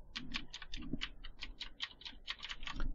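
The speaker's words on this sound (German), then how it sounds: "Keyboard." Rapid, uneven clicking of computer keys being typed, picked up by a Creative Sound BlasterX H6 headset microphone, quiet and close, with a few heavier keystrokes mixed in.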